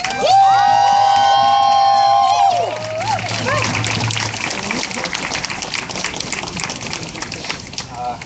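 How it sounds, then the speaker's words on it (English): Crowd at an outdoor rally in Toronto marking the end of an occupation, opening with loud sustained high-pitched whooping and whistling, then dissolving into steady broad cheering and clapping noise for several seconds. "give them another round of applause"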